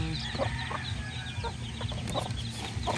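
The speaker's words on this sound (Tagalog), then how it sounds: "Ayan ang ating mga sisiyo. Cute na mga sisiyo." Newly hatched chicks peep in a dense, continuous chorus close by, with a hen clucking low underneath. The calls keep going for the whole stretch and no one speaks.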